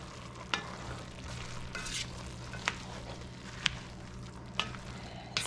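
Cookup rice with habanero and sweet peppers stirred in a sizzling pot: a low, steady fry hiss broken by spaced, crisp spoon scrapes and taps against the pot, fairly quiet and without speech.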